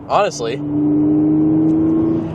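Audi B8.5 S5 engine breathing through an AWE Touring exhaust, a steady loud drone held at constant revs after a short spoken word at the start.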